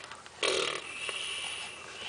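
Someone imitates a baby's wet fart with the mouth, a short, close, sputtery blurt that fades into a faint breathy tail during a diaper change.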